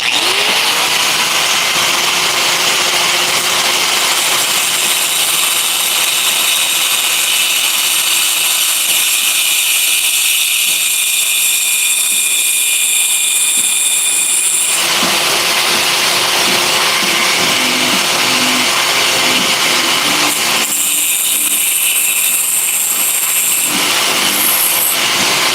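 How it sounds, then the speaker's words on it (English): Harbor Freight angle grinder cutting metal beside a leaking gas tank, a loud continuous high-pitched whine and shriek that runs almost unbroken, with brief dips where the disc comes off the cut. "let me cut these real quick next to the leaking gas tank. Just use a regular old Harbor Freight grinder."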